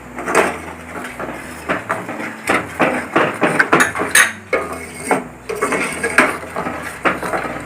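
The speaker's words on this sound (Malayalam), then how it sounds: "നന്നായി ഇളക്കി കൊടുത്തോളൂ." Tomato sauce stirred in a cooking pot, a spoon knocking and scraping against the metal in a steady run of close clatters, fairly loud and with no talking.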